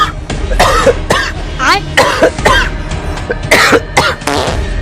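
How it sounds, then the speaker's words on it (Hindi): Repeated harsh coughs and throat clearing from a sick person, close and loud, in irregular bursts over steady background noise. "ये देखिए, मुझे खांसी हो चुकी है"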